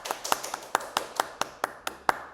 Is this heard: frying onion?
no